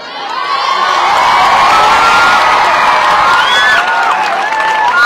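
A large crowd of schoolchildren at a school gathering cheering and shouting with some clapping, loud and sustained, swelling quickly and holding for several seconds.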